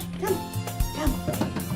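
A big brown dog called Fudge barks in the Doki Doki Literature Club game, giving a few short, fairly loud woofs and yips over a steady background tone.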